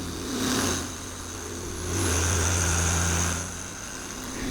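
An In2Detailing DA9 dual-action car polisher running at speed 4, a steady whirring motor hum with a high tonal whine that swells and eases as it works across the panel, close, no talking.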